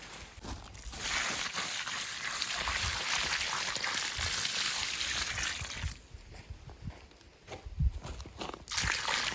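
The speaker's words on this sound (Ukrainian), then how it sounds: "Ще раз гарненько проливаю водою для того, щоб земля всілася, е, заповнила пустоти і була вологою." Water poured onto garden soil after planting peony and lily bulbs, a steady soft gushing splash for several seconds, then quieter trickles and a few light thuds, fairly faint and close.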